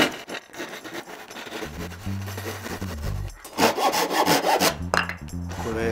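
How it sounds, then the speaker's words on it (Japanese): A hand saw cuts a piece of wood at a right angle in an SK11 miter box, with steady rhythmic back-and-forth strokes that are close and fairly loud. "この木材をですね、直角に切ってみたいと思います。"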